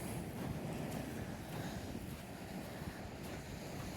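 Ocean surf rolls in on the sand beach at 133rd Street in Ocean City, Maryland, a continuous broad wash of breaking waves mixed with wind rumbling against the microphone, with no speech.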